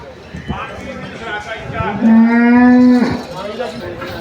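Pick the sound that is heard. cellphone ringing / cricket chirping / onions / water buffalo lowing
water buffalo lowing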